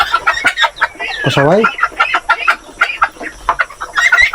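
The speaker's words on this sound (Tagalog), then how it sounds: "Pumasok na naman yung inahin na native na manok na merong bagong pisa" A native mother hen clucks among newly hatched chicks on a small farm, repeated close clucks and thin chick peeps mixed with someone speaking over them.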